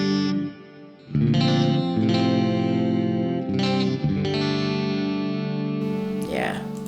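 Clean electric guitar chords through the Neural DSP Archetype Nolly amp plugin ring out with reverb, several strums sustaining and fading into a lingering wash of sound.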